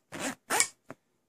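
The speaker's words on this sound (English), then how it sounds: "The zips" Zippers on a waterproof-lined bug out bag are run quickly, two smooth rasping pulls followed by a short third tug, close and crisp against silence.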